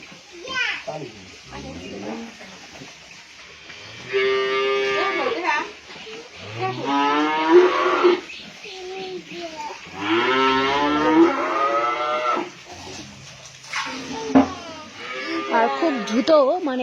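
Repeated cow moos from a cow that has just calved, loud and close, come in long drawn-out calls spread across the clip, with people's voices, including children, mixed in between.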